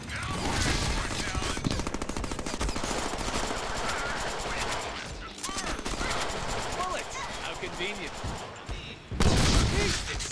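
Guns fire in rapid sustained bursts in the video game Deadpool, dense machine-gun rattle running almost nonstop with impacts and a louder burst near the end, voices talking over the gunfire.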